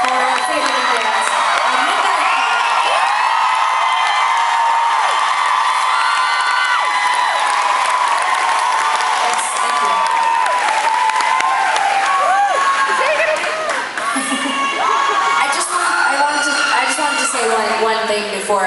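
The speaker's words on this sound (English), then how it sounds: "Huge applause for our favorite bands." A concert crowd at Stage AE in Pittsburgh claps, cheers and whoops for the bands, a loud, sustained roar with shouts and screams rising above the clapping, and voices mixed throughout.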